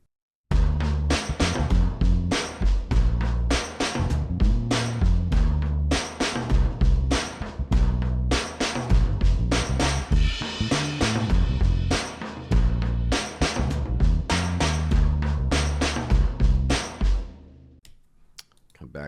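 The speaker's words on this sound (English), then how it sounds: "when I hit the snare, it's going to hit the tambourine here as well" An Addictive Drums 2.5 kit plays a busy groove in which each snare hit is linked to a tambourine, so dense, punchy drum strikes with jingling on the backbeats repeat steadily for most of the clip before the sound fades out.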